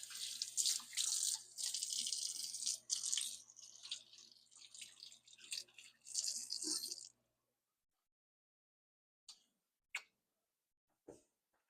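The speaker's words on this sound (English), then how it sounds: "I gotta wash my hands." Hands are washed under a running tap, water splashing steadily for several seconds before stopping, followed by a few faint drips and small clunks in a quiet room.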